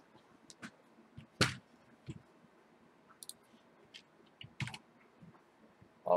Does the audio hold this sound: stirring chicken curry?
no